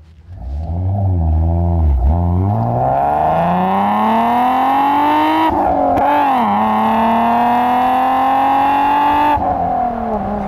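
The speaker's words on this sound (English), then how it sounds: "I think let's take it through the gears once again." Alfa Romeo SZ engine revving hard and pulling up through the gears, loud and close, with rising pitch broken by brief dips at each shift and no talking.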